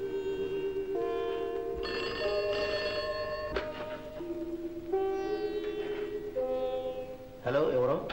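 An old-fashioned telephone rings in a Telugu film scene, a steady bell-like tone sustained across the whole stretch beneath a bed of film music with shifting tones.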